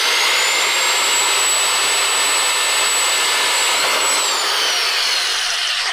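An old electric drill bores out holes in a PSU shroud, giving a loud, steady high-pitched whine that holds for about four seconds before dropping in pitch and cutting off.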